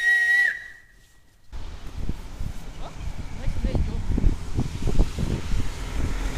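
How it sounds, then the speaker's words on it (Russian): A person on a rooftop gives a short, clear whistle that glides briefly at the start, then it stops and steady wind rushes across the microphone outdoors. "А ну сейчас свистни."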